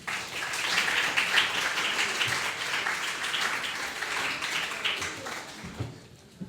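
An audience applauds steadily to welcome a writer at a talk event, a dense, sustained clapping that fills the room and fades out near the end.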